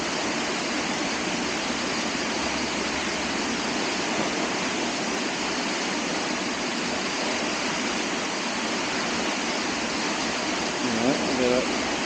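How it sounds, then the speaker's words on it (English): Ellenborough Falls pours heavily in a constant broad rush of falling water, close and full, and a voice briefly rises over it near the end. "Plenty of water coming off there"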